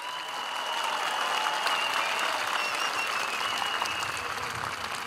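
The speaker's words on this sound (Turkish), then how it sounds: "bütün sağlık emekçilerine kocaman bir alkış" A huge outdoor political rally crowd at Saraçhane in Istanbul applauds health workers, a broad roar of clapping that swells and holds steady for several seconds, with a whistle-like tone drifting above it.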